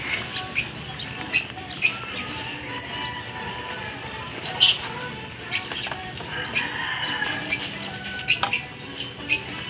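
A pet bird in a small home garden lets out a series of sharp, high squeaks and squawks, irregularly spaced and close, over a quiet outdoor background.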